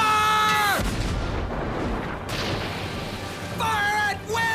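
Battle gunfire or cannon fire from a sci-fi fantasy show, a loud sustained barrage of booming blasts that fills the scene, with shouted voices before and after the volley.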